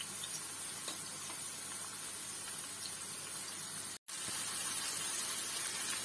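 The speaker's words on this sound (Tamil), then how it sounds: "இந்த எண்ணெய் சவுண்டு போனோன்னா நம்ம ஆஃப் பண்ணிடலாம்" Pumpkin 65 pieces deep-frying in hot oil give a steady, dense sizzle and bubbling, close and even, with a brief cut to silence partway before the frying resumes.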